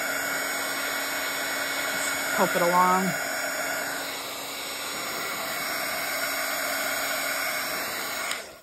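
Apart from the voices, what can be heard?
heat tool blowing on the back of a Bible page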